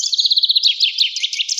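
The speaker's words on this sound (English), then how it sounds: "The old thrush, who was watching from the stone, made an excited tweet." An old thrush gives an excited run of quick, high chirps and tweets, loud and close, lasting under two seconds with nothing else audible.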